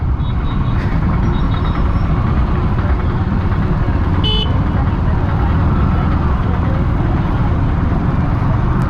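Dense roadside traffic in a jam on a motorcycle ride from Raigad fort to Nashik, a steady low rumble of engines with a faint brief horn toot around the middle, continuous and loud throughout.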